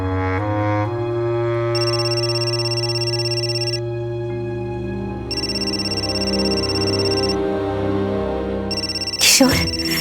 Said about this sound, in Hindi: ताई का फोन है।